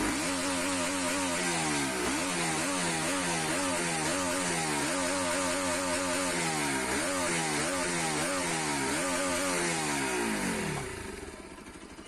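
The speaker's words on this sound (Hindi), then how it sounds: "चलिए इसी के साथ मैं आपको एक एग्जॉस्ट साउंड भी सुना देता हूँ।" A 2019 Bajaj Pulsar RS200 motorcycle exhaust revs repeatedly in rising and falling sweeps, loud and close, for about eleven seconds before cutting to a low idle at the end.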